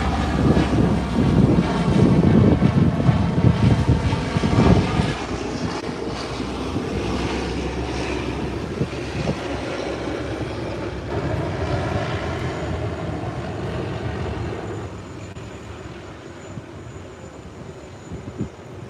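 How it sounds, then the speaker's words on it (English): An Embraer 120 turboprop airliner, just in from Grand Turk, taxis after landing with a steady, loud engine drone and propeller roar that eases slightly toward the end. "And there it is. Just landed. Embraer 120"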